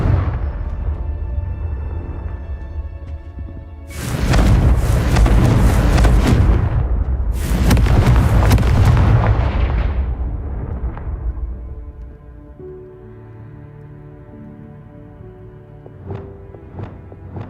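Fire spell explosions in the Hogwarts Legacy video game: two loud, roaring blasts erupt in quick succession and rumble away, followed by quieter magical shimmering and a couple of faint pops.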